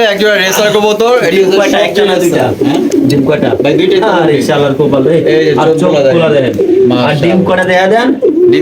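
Pigeons for sale at a market coo in a steady, low murmur throughout, partly under close, continuous conversation between a seller and buyer.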